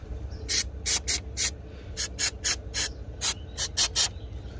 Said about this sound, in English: I'm gonna go ahead and give this connector a good spray